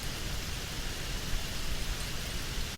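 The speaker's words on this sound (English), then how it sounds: "I know Jesse likes the thunderstorm, so I'm letting it play a little bit longer." A thunderstorm rain recording plays from the Travelear app, a steady, even wash of rainfall hiss that carries without a break and then cuts off abruptly at the end.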